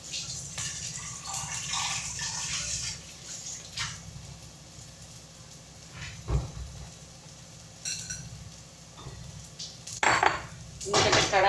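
A cooking pot set down in a home kitchen amid clattering dishes and cutlery, with bursts of running water and metallic knocks, close and fairly loud, ending in a louder cluster of clanks.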